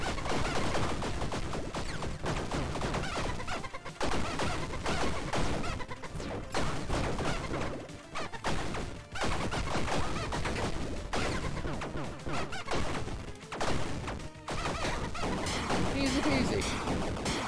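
Missiles in the Tiny Rogues video game, heard as a rapid, continuous barrage of crashing blasts and impacts with brief gaps, moderately loud, with a voice speaking at times over the game sound.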